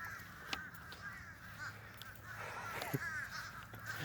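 Dozens of crows caw over one another in a dense, continuous chorus that fills the air, with harsh calls overlapping near and far and a few sharper cries standing out.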